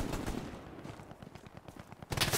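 Machine gun fire in a WW2 video game assault on Sainte-Mère-Église, a rapid train of sharp bursts rattling steadily, with a louder close burst at the end.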